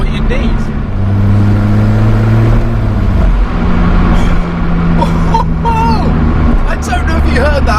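An Alfa Romeo 4C Spider's turbocharged engine accelerates with a loud in-cabin drone that shifts pitch between gears, and near the end a short fluttering turbo chatter comes through, with someone talking over it.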